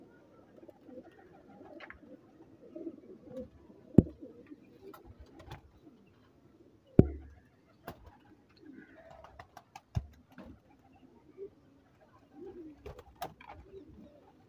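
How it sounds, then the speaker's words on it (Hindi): Sare Lakhe Indian pigeons coo softly and repeatedly in a low, murmuring chorus close by, with a few sharp ticks and knocks breaking through at intervals. "ये दोस्तों सड़े लाखों में से कबूतर है"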